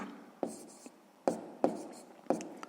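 Handwriting on paper during sixth-grade maths work, heard up close as short scratchy pen strokes with four distinct taps spaced unevenly across a few seconds, alone without speech.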